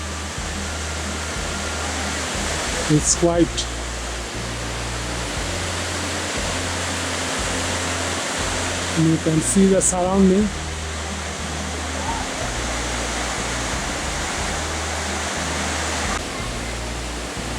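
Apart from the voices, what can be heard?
waterfall roaring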